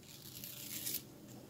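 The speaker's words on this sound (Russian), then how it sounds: "Далее откроем пакетик с бананчиком." Thin paper surprise packet is torn open in one short, soft ripping stroke with faint crinkling, close but quiet, and no voice over it.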